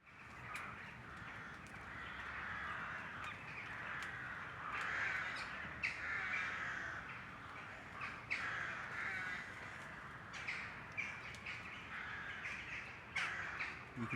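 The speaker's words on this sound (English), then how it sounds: "You can definitely hear the birds" Crows caw repeatedly at dusk around a UK woodland camp with a hot tent and woodstove, a dense chorus of harsh calls at moderate distance, mixed with other birds calling over steady background ambience.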